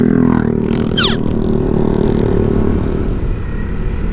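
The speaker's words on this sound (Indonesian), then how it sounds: "Awas motor di kanan." A motorcycle passes on the right along a night road on the Cidaun–Naringgul–Ciwidey route, its engine loud and close, mixed with continuous road and wind rumble from the rider's own vehicle.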